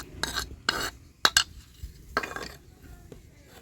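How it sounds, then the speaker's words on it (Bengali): Sour yogurt is whisked in a bowl, giving a few short scraping, clinking strokes of utensil against the dish, separated by brief pauses and fairly close. "এবার দইটা একটু ফেটিয়ে নেব।"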